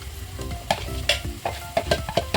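Chopped jackfruit vegetable is tipped into a hot pan and stirred: a steady sizzle broken by repeated scraping and clattering strokes of a spoon, close and fairly loud, with no talking.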